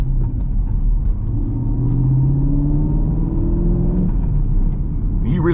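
A Chevrolet Camaro SS 1LE pulls away from a hill start, its engine rumbling steadily and rising in pitch as it accelerates, close and loud throughout.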